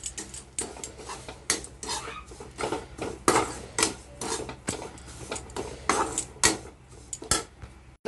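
Semolina being fried with fried coconut in a pan while preparing gujiya, with repeated scraping and clinking of a metal spoon against the pan in an irregular, close stirring rhythm, no talking.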